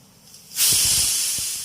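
A pressure cooker of raw mango boiling on a gas stove lets out a sudden loud, steady whistling hiss of steam that starts abruptly and holds at full strength.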